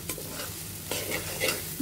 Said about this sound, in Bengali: আমাদের সর্ষে কষানো প্রায় হয়ে গিয়েছে। ঠিক এরকম ভাজা ভাজা করে নিতে হবে।